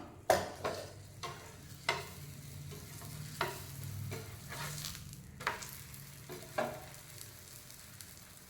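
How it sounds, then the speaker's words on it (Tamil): A stuffed potato-carrot paratha fries in oil on a dosa tawa, giving a soft, steady sizzle punctuated by regular light taps and scrapes of a spatula, fairly quiet and without talk. "ஆயில் போட்டு ஃப்ரை பண்ணி எடுத்துக்கலாம்."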